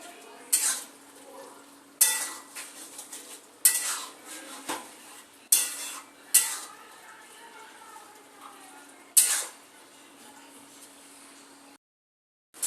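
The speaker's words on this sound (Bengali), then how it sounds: "এবার আমি ভিজে রাখা মাছের ডিমগুলোকে দিয়ে দেব দিয়ে নাড়িয়ে চাড়িয়ে নেব সুন্দরভাবে" Fish roe that was soaked beforehand goes into a simmering curry of taro stolons (lati), with sharp metal clinks of a spoon against the pot at intervals and a soft scraping stir between them, close and clear, ending in a brief silence.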